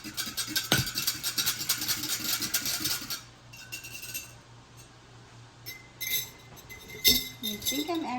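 A whisk clinks fast against a glass jar while stirring lime water for preserving eggs, a close, bright, rattling stir for about three seconds, then quieter scattered clinks and taps.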